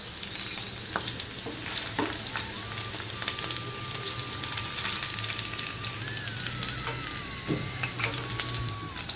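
Okra fries in a kadai while being stirred now and then, a steady soft sizzle close by with occasional scraping stirs over a faint background tone.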